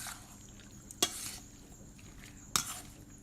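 Avocado pieces are mixed in a bowl for guacamole salsa dip, the soft squelching stirs quiet and close. Two sharp clinks of a utensil against the bowl punctuate the faint mashing.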